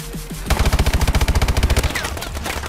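Rapid automatic gunfire from a first-person shooter, Call of Duty Advanced Warfare, rattles out as a loud, fast burst of evenly spaced shots lasting over a second, followed by fainter game sounds.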